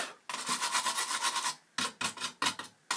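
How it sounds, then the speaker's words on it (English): Dust being brushed or wiped from the original chip sockets on a Commodore 64 board, a steady scratchy rubbing for over a second, then several short separate strokes, close and fairly quiet with no talking. "let me just briefly clean some of the dust"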